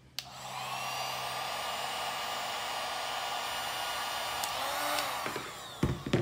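A heat blower on its low setting aimed at a sticky label gives a steady, close whooshing hum for about five seconds, then switches off with a few handling clicks.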